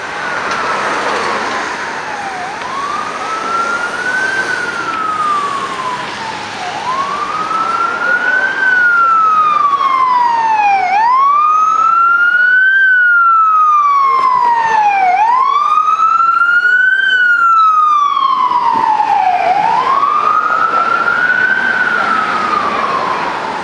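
An ambulance responding to a call in Montreal wails with a loud, close siren in repeated rising and falling sweeps, and a second overlapping tone joins partway through.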